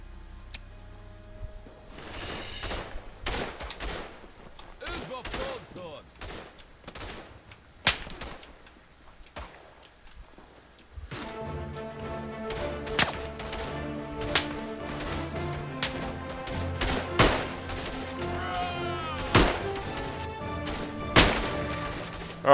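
Rifle and handgun shots in the video game Tannenberg ring out as sparse single cracks, then a denser run of sharp reports over a background game soundscape.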